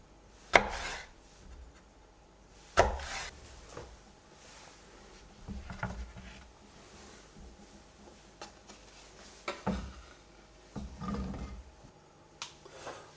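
Several sharp knife chops ring out on a cutting board as bell peppers are sliced into sticks, the cuts coming in scattered clusters with pauses in between.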